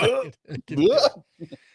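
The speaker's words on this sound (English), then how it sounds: "I hear people gagging in the other room." A person makes throaty retching and gagging noises, a few strained bursts close to the listener, ending with short choked sounds.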